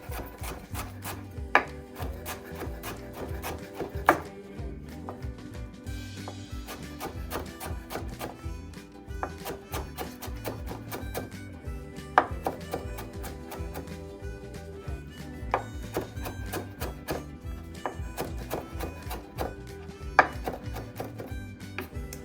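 Knife chopping through rolled yam leaves on a board for Gambian plasas, a steady run of quick close taps and thunks with sharper knocks every few seconds, no voices.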